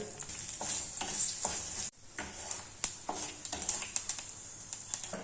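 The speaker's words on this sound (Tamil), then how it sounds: "ரெண்டு டீஸ்பூன் ஆயில் கடுகு கடுகு வெடிச்சுடுத்து" Mustard seeds splutter in hot oil: rapid crackling and popping spatters, dense and close, with a brief pause midway before the sharp spluttering resumes.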